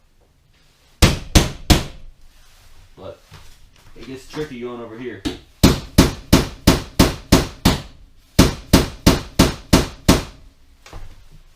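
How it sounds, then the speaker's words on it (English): Loud, sharp metallic hammer blows knocking out rivets on a bus wall, struck in quick rhythmic runs close by, with a brief spoken remark between the bursts. "I like to hammer this way,"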